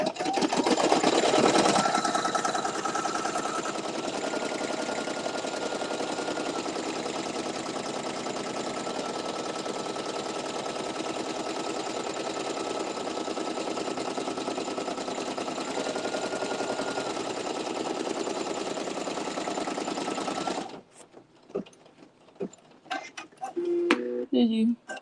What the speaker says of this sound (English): Then it's gonna stitch. So I'm going to do the same process again. I'm doing a run stitch.